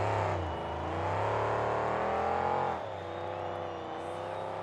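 A monster truck's engine roars loud and steady at a Tacoma event as it runs at the tough truck ramps, the pitch rising then dropping as it launches, with a faint crowd wash underneath.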